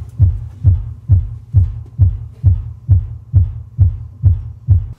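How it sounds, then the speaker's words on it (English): Sub bass from a powered subwoofer, 90 Hz and below with the top cabinets switched off, thumps in a steady, evenly spaced pulse of deep, booming hits, loud and alone. "We're only gonna hear frequencies 90 hertz and below, which is the sub bass."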